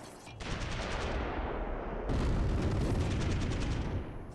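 Mortar blasts and dense gunfire in the Close Combat III war game during a German attack on a town, a loud continuous barrage of rapid shots with a sharp, heavier burst of explosions midway.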